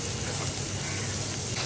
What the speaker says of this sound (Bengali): প্রথমে পেঁয়াজ কষিয়ে নিচ্ছি।